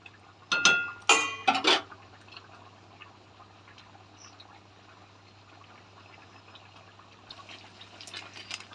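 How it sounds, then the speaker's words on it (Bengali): A spoon clinks against a pot of red chicken curry gravy in a few quick, bright knocks near the start, then gives way to a faint, quiet bubbling simmer. "মাংসটার ঝোলটা ফুটছে, হয়ে এসছে, নামাবো।"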